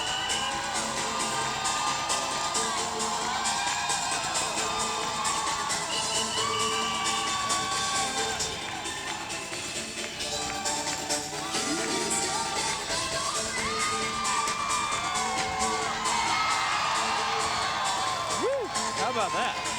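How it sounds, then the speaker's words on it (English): A large crowd at the 2001 San Francisco Pride Parade yells, whoops and cheers continuously and loudly throughout, with an announcer's voice mixed into the din. "The louder you yell, the higher we fly."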